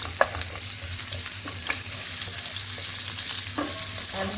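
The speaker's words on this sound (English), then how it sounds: "and then I'm going to add onions, a little bit of onions" Onions sizzle and fry in a hot pan, making a loud, continuous crackle with occasional stirring scrapes and clicks.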